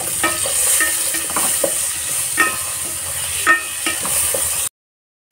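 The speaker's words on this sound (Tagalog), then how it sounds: "sabay ko na tong kamatis at saka sibuyas" Tomatoes and onions sautéing in a hot pan, a continuous bright sizzle broken by repeated spatula stirs and scrapes, close and fairly loud, ending abruptly in silence.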